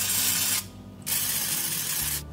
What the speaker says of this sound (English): spritz the tops of these with a little olive oil spray